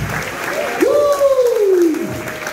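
A church congregation at a Rio de Janeiro service claps, a close crowd patter under a loud, sustained voice sweeping up and down in pitch.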